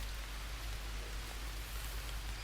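Steady rain in the video game Green Hell, a continuous dense hiss of falling water under a low hum, even and unbroken throughout.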